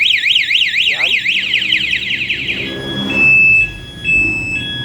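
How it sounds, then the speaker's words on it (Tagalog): Anti-theft alarm on a Honda Mio i 125 motorcycle sounds a loud warbling siren that rises and falls rapidly, then shifts to steady electronic tones and beeps. "Pag ginalaw mo to, pag nagalaw yung motor, mag-a-alarm siya ng isang beses."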